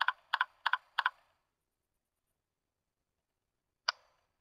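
Crisp computer keyboard keystrokes tap out a short burst of about eight quick clicks, then silence, followed by a single mouse click a few seconds later, close and clear with no voices.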